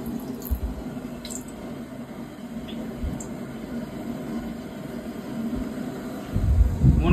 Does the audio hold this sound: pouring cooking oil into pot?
yes